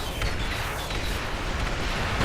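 Battle rifle rounds burst into explosions during an Armored Core V fight, a thick, continuous rumble of booms and blasts that stays loud and close from start to finish.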